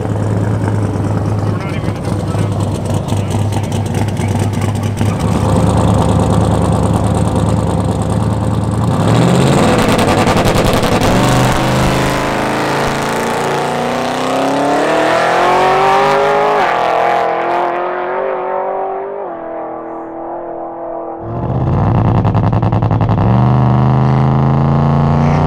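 Buick drag car making its first pass down a drag strip, engine idling low, then revving and climbing through rising gear pulls, loud and close, cutting off briefly before the rumble returns, with talking over parts.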